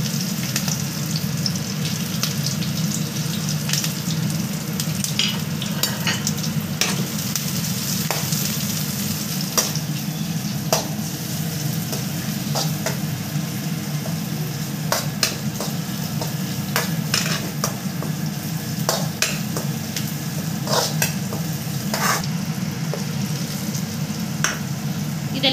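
Shallots, dried red chillies, coconut pieces and curry leaves frying and being stirred in a pan for a prawn fry, a steady loud sizzle throughout with frequent sharp clicks and spatula scrapes, no talking.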